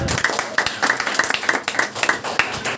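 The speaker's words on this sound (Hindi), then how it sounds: "परमेश्वर के लिए तालियां दे सकते हैं।" A church congregation claps together in praise during a worship service, a dense run of sharp, fairly regular hand claps close by.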